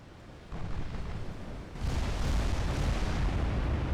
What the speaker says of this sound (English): We're both firing 20-inch guns.